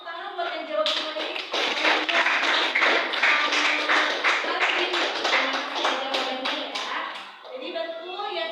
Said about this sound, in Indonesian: Tepuk tangan buat yang jawab semua ini.